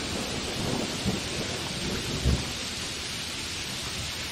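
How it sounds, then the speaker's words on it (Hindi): Heavy rain pours down in a dense, steady hiss during a thunderstorm, with low rumbles of thunder swelling briefly underneath, one stronger roll standing out midway. "तेज बिजली और गरगराते बादलों के बीच आंधी और बारिश।"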